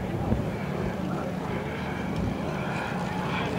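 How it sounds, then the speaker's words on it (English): A model de Havilland Comet jet aircraft flies at the Cosford air show, giving a continuous distant engine rumble mixed with wind noise. A commentator's voice can be heard over it. "Steve flies this aircraft in real scale manner"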